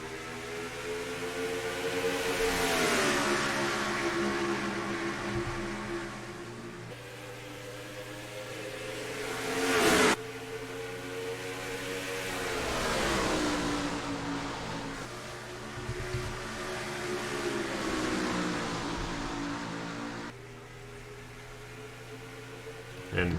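Race cars roar together at the green flag start of a NASCAR Racing 2003 race at Dover Motor Speedway, engines droning in steady rising and falling waves with a few sharp bursts, loud and continuous.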